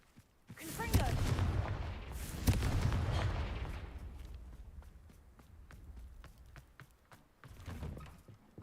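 The Confringo fire spell in the video game Hogwarts Legacy sets off two booming blasts close together, followed by crackling debris, scattered sharp impacts and a low rumbling tail.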